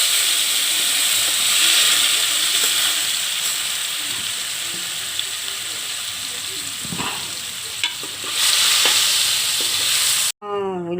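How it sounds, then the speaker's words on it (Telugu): Paneer sizzling in hot oil with turmeric in a home kitchen, a steady loud frying hiss running throughout with occasional stirring clinks, ending in a brief sharp clatter. "పన్నీర్ని ఇలా నూనె వేసుకున్నాం కదండి. ఇందులో పసుపురా వేసి పన్నీర్ నేర్పుకోవాలండి"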